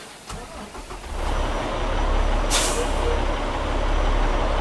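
A heavy truck's Cummins X15 diesel engine in a video game cranks and rumbles to life, settling into a loud, steady idle with a brief hiss of air partway through.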